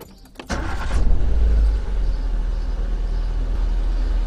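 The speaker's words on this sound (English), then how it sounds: "Let's try it with our engine running." A car engine turns over and settles into a steady, close idle, with a low continuous rumble and no voices.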